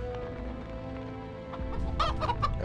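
A chicken clucks in The Witcher 2, several short clipped clucks close by over a low game ambience, growing busier and louder toward the end.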